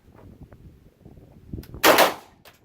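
A CZ P-09 pistol fires steel-case ammunition outdoors near water: one loud, sharp report cracks out after a stretch of quiet ambient noise, then a short decay.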